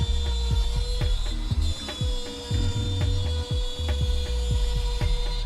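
Router lift on a router table raising the bit through a workpiece, a close, loud mechanical drive with rapid repeated ratcheting clicks and thumps over a steady motor whine, no voices.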